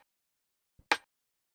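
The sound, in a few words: small snare drum sample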